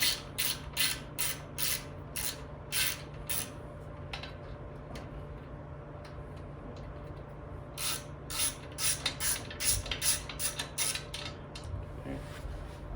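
A ratcheting Allen wrench backs out a bolt on a TagBot foot in quick clicking bursts, pausing in the middle and then returning to a run of close, crisp ratchet clicks.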